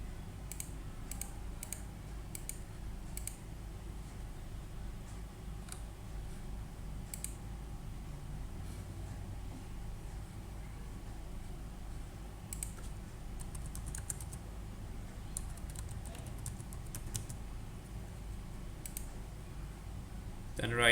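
Steady typing on a computer keyboard while a Pakistani ID number is entered into a government website form, with continuous light key clicks over a low background hum and no talk.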